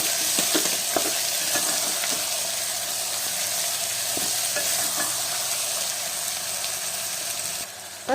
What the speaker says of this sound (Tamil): இந்த கொட்டையில போட்டு கொஞ்ச நேரம் வதக்கிக்கலாம்.